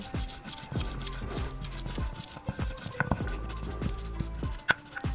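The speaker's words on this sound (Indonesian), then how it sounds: "Di sini jahenya aku parut duluan supaya menghaluskan secara manualnya lebih gampang." Ginger is hand-grated for buffalo-meat rendang spice paste, giving a quiet series of rhythmic rasping strokes, close and fairly soft, with a few sharper knocks.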